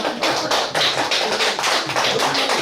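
Talk show audience clapping in a hall, a dense, close burst of many hands with uneven rhythmic pulses that holds steady throughout.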